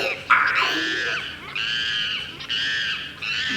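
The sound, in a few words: storyteller imitating a monkey's scream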